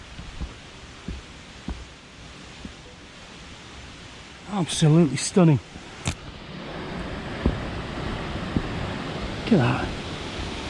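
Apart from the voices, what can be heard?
small waterfall at Harrop Tarn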